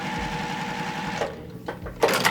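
Sewing machine chain stitching pieced quilt blocks, a steady fast mechanical whir and needle patter that runs close and loud, then stops and restarts briefly.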